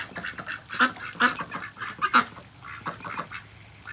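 Pekin ducks quack and honk repeatedly while eating earthworms, a close flock of raspy, overlapping calls in quick bursts with short pauses between.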